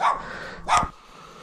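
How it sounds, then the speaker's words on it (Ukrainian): A dog barks twice in a rural Ukrainian village, two short sharp barks about half a second apart, moderately near, with quiet outdoor background between them. "собака гавкає"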